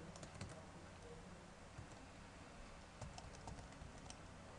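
Fingers typing on a computer keyboard, quick bursts of light clicking keystrokes in two clusters, close but faint over a low background hum.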